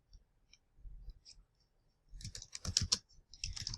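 A search query being typed on a computer keyboard, brief bursts of quick, close key clicks separated by short pauses, fairly quiet with no talking.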